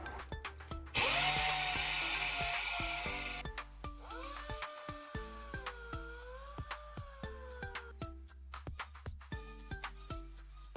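A power sander works over aluminum Honda Civic wheels in a loud, close burst of about two and a half seconds, followed by quieter scattered clicks and tones.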